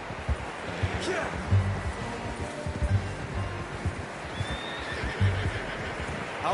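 A horse in a PS4 video game whinnies and clops its hooves at a slow, steady walk, with the low thuds spaced evenly and close by.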